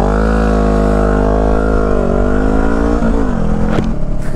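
A motorcycle pulls away quickly from a stop, its engine note rising steadily through the revs, loud and close, then the throttle eases back near the end.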